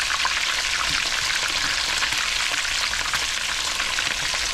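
Bluegill fillets fry steadily in a pan, a dense, even crackle and hiss of hot oil running unbroken at close range, with no voices over it.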